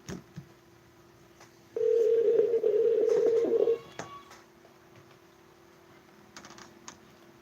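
A phone call being dialed, with a single sustained dial tone held for about two seconds and short clicks and key taps around it, close and fairly quiet, no voices.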